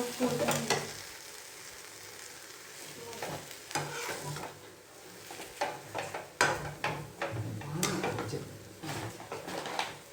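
Gond and dry fruit halwa is stirred in ghee in a pan. It gives a soft, steady sizzle broken by frequent close scraping and clacking strokes of the spoon, with no voices.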